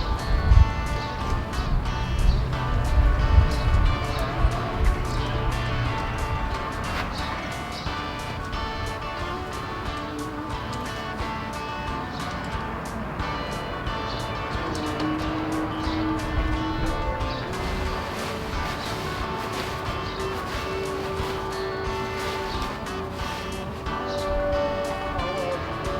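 An Islamic call to prayer in Riyadh, Saudi Arabia rings out as a sustained, melismatic amplified voice heard from a distance, blending with steady outdoor ambience and carrying on unbroken for the whole stretch.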